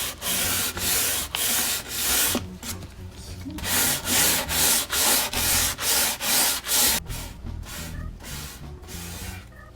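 Hand sanding with 150 grit sandpaper makes loud, close rhythmic rasping strokes, about two per second and steady through the middle, easing into softer rubbing toward the end with no speech.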